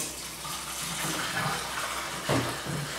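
Warm water runs steadily from a sink faucet in a home film-developing setup, a constant close rushing hiss with a brief splash near the end.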